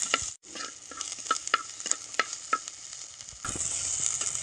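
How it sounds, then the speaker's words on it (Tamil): Turkey berries and large garlic cloves sauté and sizzle in a hot pan, with a steady frying hiss and a series of stirring scrapes, close and fairly loud. "அதை சேர்த்து அதையும் போட்டு நல்லா வதக்கணும்"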